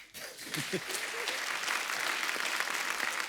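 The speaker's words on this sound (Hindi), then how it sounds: "एक बार रणबीर कपूर के लिए जोरदार तालियां हो जाए" Studio audience at an Indian comedy talk show breaks into loud, sustained applause, steady and dense throughout, with a brief voice at the start.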